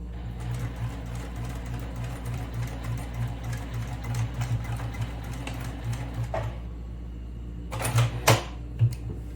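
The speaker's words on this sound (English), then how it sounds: "Now I'm going to stop, lift the foot presser, and then to continue to sew." A sewing machine stitches a lunch bag in a steady rapid mechanical rhythm, then stops briefly before a couple of short bursts resume, close and moderately loud.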